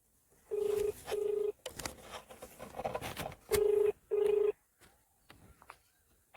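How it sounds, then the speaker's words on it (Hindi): A phone call rings back in two pairs of steady electronic ringback tones, separated by a stretch of faint background clatter. "घंटी जा रही है महोदय को।"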